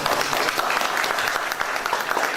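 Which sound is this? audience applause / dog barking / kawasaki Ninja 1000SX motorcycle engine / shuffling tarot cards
audience applause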